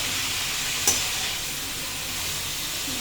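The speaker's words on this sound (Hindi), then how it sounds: "बना भी देना, सिर्फ फ्राई कर रहे हो" Vegetables (potato, tomato and cauliflower) frying in a pan, a loud continuous sizzle and hiss with a single brief clink near the start, steady and close.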